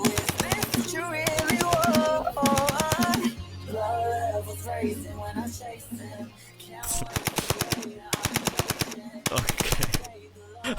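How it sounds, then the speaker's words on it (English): Rapid bursts of automatic gunfire rattle loudly in repeated volleys, separated by brief gaps with voices and music underneath. "The gunshots?"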